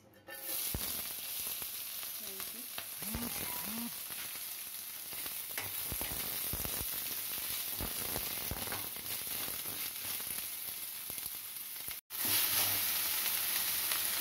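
Onions frying in hot oil for chicken 65, a steady close sizzle and crackle running throughout with a few brief stirring clinks, cut by a momentary gap near the end.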